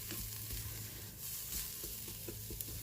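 Onion and garlic sizzling steadily in a pan for white chicken chili, a continuous close frying hiss with faint stirring taps and no talk.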